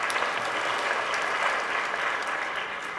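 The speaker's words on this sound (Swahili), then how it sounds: "Hongera sana, tuwapigie makofi Ruvuma." Loud, dense applause from a conference audience congratulating the Ruvuma region, continuous sustained clapping with no voices over it.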